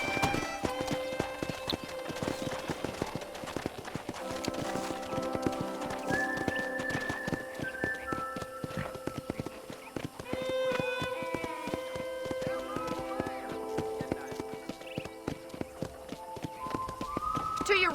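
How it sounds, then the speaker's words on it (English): Horse hooves clip-clop in a steady rhythm at a ranch in the Red Dead Redemption video game, with occasional whinnies, over spoken dialogue and background music. "I picked out a fine horse for you."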